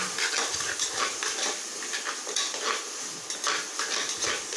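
Egg rice with all its ingredients fries in a pan, heard as a continuous soft sizzle layered with frequent metallic scraping and clinks of a utensil stirring against the pan.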